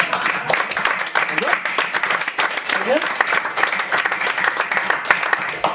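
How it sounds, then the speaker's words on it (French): Loud, sustained applause from a French comedy show audience, close and dense clapping throughout with a voice talking over it at times. "On les applaudit très fort quand même."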